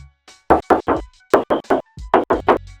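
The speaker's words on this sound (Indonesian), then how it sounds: "Coba kita tes ketok ya." Knuckles rap on the original, never-repaired engine hood of a Daihatsu Xenia 1.5 family car, a run of about a dozen sharp, close metallic knocks in quick uneven groups, with no talk over them.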